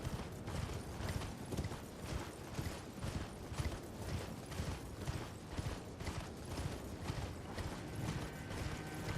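Horse hooves gallop in a steady, rapid clip-clop rhythm in the video game Elden Ring, mechanical and continuous, moderately quiet, with no talk over it.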